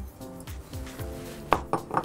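A metal saucepan clanks and scrapes as it is moved about while preparing cooked sugar, with a few sharper clinks toward the end, close and fairly quiet.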